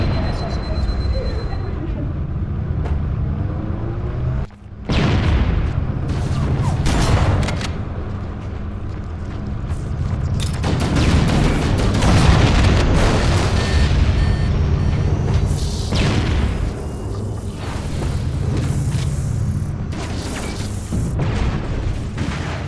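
Heavy booms and rumbling blasts as fusion reactors are blown up with explosives in Halo CE Anniversary, loud bursts recurring over a continuous roaring game soundscape.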